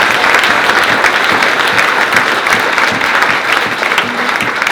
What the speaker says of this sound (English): How about a round of applause for nurses